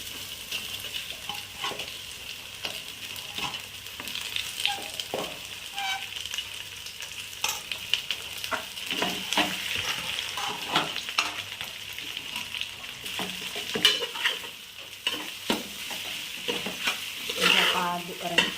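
Cut patrode fry in a pan, with continuous sizzling and frequent scraping and stirring strokes against the pan, up close and with no voices.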